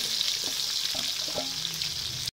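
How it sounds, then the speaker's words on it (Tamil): Onions and curry leaves sautéing in hot oil, a steady close sizzle with faint stirring clicks throughout, ending abruptly. "கருவேப்பிலை போட்டால் ஒரு நாலு வெங்காயம் வெட்டி வச்சுருக்கோம் பெரிய வெங்காயம் அது கூட இதை வதக்கலாம்"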